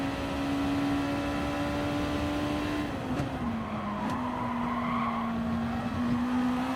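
Gr.2 race cars in GT Sport slow into the pits at the Red Bull Ring: a close, steady engine drone with a strong whining tone that dips in pitch partway through and then holds, with no other sounds.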